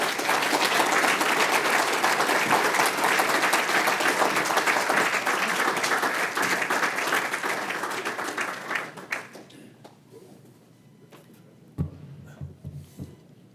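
Sustained applause from a large crowd at a dedication ceremony, dense and loud, gradually thinning out into scattered claps and a few thumps.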